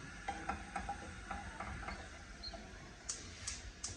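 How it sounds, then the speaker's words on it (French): Chopped shallots cooking in a pan for duck breast with orange sauce, a quiet, low sizzle with scattered soft taps and scrapes of a utensil, plus a few brief sharper clicks near the end. "je laisse cuire mes échalotes"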